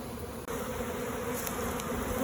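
Dense swarm of honeybees buzzing and flying close by during a backyard swarm capture, a loud continuous drone with no pauses.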